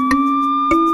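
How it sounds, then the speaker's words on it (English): Cartoon police car siren: a bright electronic two-tone sound, one held pitch stepping to a slightly higher one within a second, with short bursts at the start and change, loud and alone. "the siren makes a sound like this."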